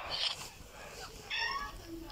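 A pet cat meows a few times indoors, faint and a little distant, over ongoing background noise with some voice nearby.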